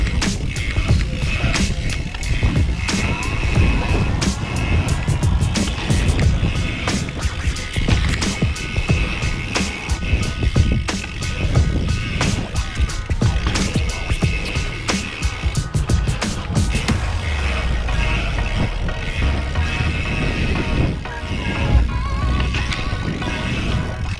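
Dirt jump bike being ridden hard, with steady loud tire and frame noise from close by and rattling bursts that suggest a heavy landing partway through.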